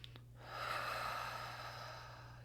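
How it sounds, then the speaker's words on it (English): Slow, deep breath drawn in during a calm guided meditation, a soft airy inhale rising after a brief pause and holding steady for a couple of seconds, close and quiet over a low steady hum. "breathing in nice and slow."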